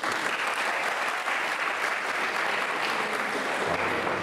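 A lecture audience applauds after a talk on Mediterranean and Middle East crises, producing sustained, dense and even clapping at a steady moderate loudness throughout.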